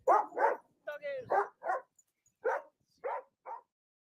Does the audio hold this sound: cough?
no